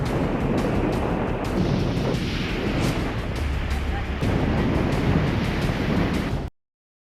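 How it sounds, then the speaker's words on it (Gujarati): Rough Gujarat sea during Cyclone Shakti, with high waves pounding the shore in a loud, continuous roar and buffeting wind before an abrupt cut to silence. "ઊંચા ઉછળતા મોજા અને કાંઠે પછડાતા મોજાનો અવાજ ડરાવી રહ્યો છે"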